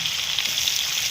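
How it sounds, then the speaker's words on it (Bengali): Chopped onion frying in oil in a kadai, a steady close hiss and crackle of sizzling that runs evenly without pause, with no voices. "তো আমি তেল দিয়ে দিলাম কড়াতে, পেঁয়াজ কুচি দিয়ে দিলাম।"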